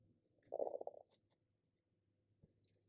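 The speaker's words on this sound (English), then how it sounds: "I hope you couldn't hear my stomach growling then." A stomach growls in a quiet room, one short, faint gurgling rumble lasting about half a second, with a small tick afterward.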